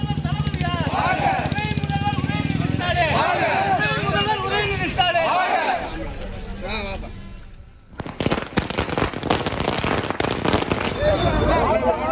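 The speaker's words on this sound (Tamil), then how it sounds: "உதயநிதி ஸ்டாலின் துணை முதலமைச்சர் ஆனதையொட்டி தமிழகம் முழுவதும் திமுக தொண்டர்கள் பட்டாசு வெடித்து இனிப்புகள் வழங்கி கொண்டாட்டத்தில் ஈடுபட்டனர" Firecrackers burst in a rapid crackling barrage at a street celebration by DMK party workers in Tamil Nadu, following a stretch of loud narration over crowd noise.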